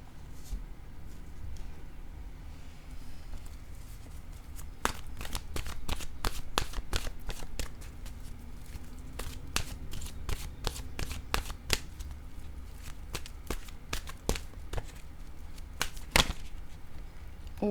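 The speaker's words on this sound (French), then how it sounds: "Je vais piger une carte de mon oracle de l'âme intuitive." A deck of oracle cards is shuffled by hand, giving close, crisp riffles and flicks in irregular bursts over a quiet room.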